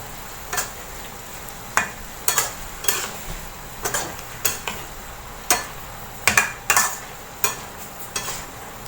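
Chicken offal and bell peppers stir-fry in a pan under a soft steady sizzle, with sharp metallic scrapes and clicks from a spatula striking the pan every second or so.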